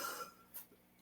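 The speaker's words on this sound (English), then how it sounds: "Just gonna have a little cough there." A single short, fairly quiet cough comes about halfway through, briefly standing out from the low room noise around it.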